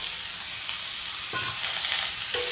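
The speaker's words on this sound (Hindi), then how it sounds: "इसको भूनते हैं" Lightly boiled ridge gourd peel frying in a pan, with a loud, continuous sizzle and two clear scrapes of a spatula against the pan, no voices.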